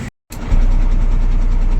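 A truck's diesel engine idles and pulls away from a factory yard, a steady low rumble starting up after a brief silence and holding loud and close.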